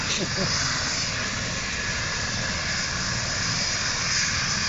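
A helicopter starts up during a rescue operation in a housing estate, giving a steady, loud engine whine and roar with broad hiss throughout and no clear voices.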